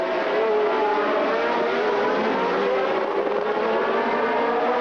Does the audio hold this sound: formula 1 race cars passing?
yes